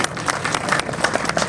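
A brief burst of audience clapping at a Hindi comic poetry gathering, the crowd's hands patting in a quick, fairly loud flurry for a second or two.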